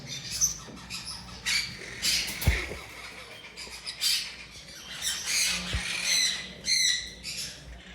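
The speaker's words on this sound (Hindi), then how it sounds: "एक येलो रिंग नेक का ब्रीडर पेयर, एक्सीलेंट क्वालिटी का मेल और फीमेल" A yellow ringneck parakeet breeding pair, male and female, lets out repeated sharp, loud squawks in irregular bursts, with a couple of knocking thumps between calls.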